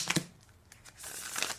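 Thoth tarot cards being shuffled by hand, close and fairly quiet: a few quick papery riffles and crinkles in short bursts, with a gap between the bursts.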